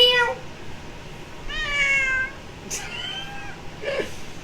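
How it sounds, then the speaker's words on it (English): A cat meows several times in a row, each call drawn out and rising then falling, fairly close against quiet background, with no talking. "Meow."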